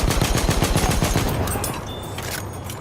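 Rapid rattling gunfire from Battlefield 1, a World War I shooter game, rings out loud and close in a dense, steady stream, then thins and fades over the final second.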